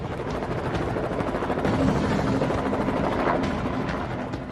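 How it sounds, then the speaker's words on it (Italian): Park Police helicopter rotor blades roaring in a steady, continuous wash of broadband noise, loud and close, holding for several seconds with no voices. "Non ho mai apprezzato niente come il rumore di quell'elicottero."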